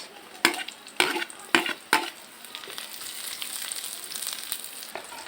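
Onion frying in oil in a pan as part of cooking shellfish, with four sharp scraping stirs early on, then a steady soft sizzle that carries on alone.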